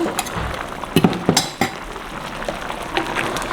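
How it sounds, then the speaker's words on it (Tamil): Fenugreek powder added by ladle to boiling kuzhambu, with a burst of close metal ladle clinks and scraping against the pot over a bubbling simmer, then quieter bubbling. "இப்போ நாங்கள் இதுக்குள்ள ஒரு கரண்டி அந்த வெந்தயத்தூளை போட போகிறோம்"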